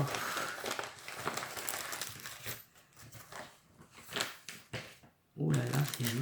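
Decorated paper mail adorned with stamps and washi tape being handled and opened, a close run of crinkling, rustling and tearing paper with quick shuffling bursts, fairly loud and near.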